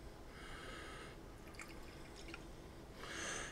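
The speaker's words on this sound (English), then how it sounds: "we're just going to drop it down in here a little bit and slowly" Coolant pours slowly through a funnel and hose into a PC water cooling loop, giving soft trickling and a few dripping plinks over a steady hiss, growing briefly louder near the end.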